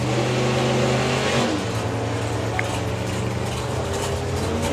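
Supergas drag race cars launch down the strip at a summer nationals meet, a loud sustained engine roar that drops slightly after the first second and then holds steady, with an announcer's voice faintly mixed in.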